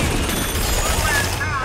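Rapid gunfire in the video game BioShock Infinite: a loud, continuous burst of shots with no break for the whole moment.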